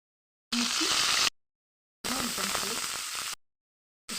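Curry leaves frying in hot oil for a makhana cashew curry, heard as close, bright sizzling bursts in three separate segments with silence between them.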